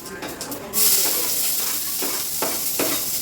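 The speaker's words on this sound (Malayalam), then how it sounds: "എന്നിട്ട് നമുക്ക് വെങ്കായം അരിഞ്ഞത് ഇടാം കേട്ടോ." Chopped onions drop into hot coconut oil with a sudden loud hiss, and a steady close sizzle follows, broken by a few stirring scrapes.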